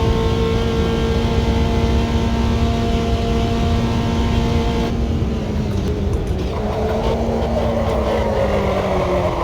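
Chevy racing car engine droning loudly at a steady high pitch, then downshifting with the tone dropping and rising again as the revs change; no talking.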